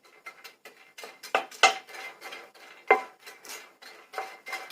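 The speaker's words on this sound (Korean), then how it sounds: "불 약하게 하셔가지고 계속 볶아주세요." Dry cocklebur burrs rattle and scrape inside a pan on low heat, stirred in quick irregular strokes with a utensil knocking the metal, close and fairly quiet with no sizzle.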